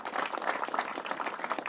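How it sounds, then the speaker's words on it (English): An audience at an airport expansion announcement breaks into applause, a dense, even wash of many people clapping at moderate loudness throughout, with no speech on top. "Yes, that deserves a big round of applause"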